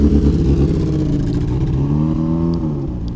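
A car climbs a steep snowy winter hill in a small New England city, its engine loud and close, revving steadily with a strained, laboring drone that shifts pitch partway through the climb.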